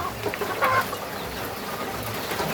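Black meat chicken laying hens cluck softly in the background, a few scattered clucks over a steady low ambient hum.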